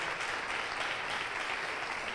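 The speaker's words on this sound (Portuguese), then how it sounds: "Dá uma salva de palmas ao Senhor." Congregation at a church service clapping for the Lord, a dense steady wash of many hands that runs evenly for the full length without voices breaking through.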